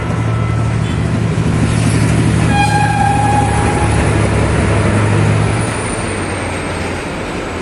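A train passes nearby in a loud, steady rumbling roar with a brief horn-like tone partway through, then fades slightly, with no one speaking.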